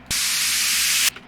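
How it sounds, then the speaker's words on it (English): A synthesized noise-sweep sound effect from an electronic music sample pack: a single bright, hissing burst of broadband noise that starts abruptly, holds steady for about a second and then cuts off sharply, with nothing else around it. "So we have an impact and an uplifter."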